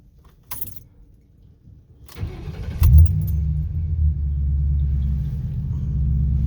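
A Ford Crown Victoria, tuned, with keys jangling before the engine rumbles on and settles into a steady, close idle.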